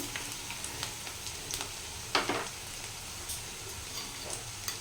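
Onions frying in a pan for a jackfruit and potato curry, a steady soft sizzle with scattered crackles and one louder pop midway, close and alone without voices.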